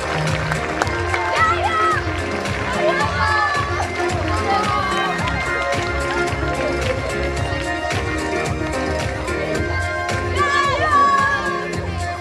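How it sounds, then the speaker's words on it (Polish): Applause and cheering from a crowd at a sports awards gala in Lubawa, steady and dense throughout, mixed with loud background music and a voice over it. "Państwa proszę o gromkie brawa"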